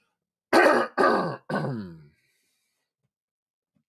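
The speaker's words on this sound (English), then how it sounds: "This is the point in the show where I have to clear my throat a lot" A man clears his throat three times in quick succession, each a gravelly rasp, close and loud, followed by silence.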